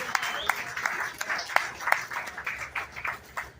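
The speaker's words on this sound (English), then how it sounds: "give them a round of applause, please" Spectators at a county fair 4-H and FFA beef show give the exhibitors a round of applause, a thin, fairly quiet scatter of claps in an open setting with distinct individual hand strikes.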